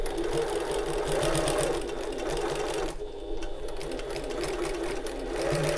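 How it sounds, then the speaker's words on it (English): A sewing machine stitches a backpack seam, running in a steady continuous whir that briefly pauses around the three-second mark before resuming, close and fairly loud with no talk. "Back stitch where that flat edge meets again, and then back stitch at the end"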